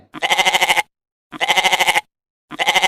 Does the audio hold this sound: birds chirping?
no